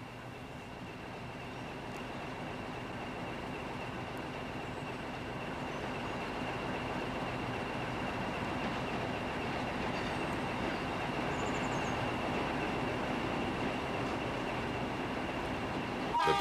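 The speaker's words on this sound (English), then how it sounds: "Approaching Pinhal Novo from the west is a 1500 class Alco from Barreiro with a local" An Alco 1500 class diesel locomotive hauls a local passenger train near Pinhal Novo, Portugal, a steady rumble of engine and rolling wheels slowly growing louder as it approaches, fairly faint and alone.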